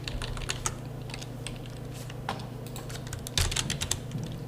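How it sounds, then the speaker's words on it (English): Rapid typing on a computer keyboard while entering a patient's details into clinic appointment software, close and steady with irregular bursts of keystrokes over a low background hum. "Now we're going to type in"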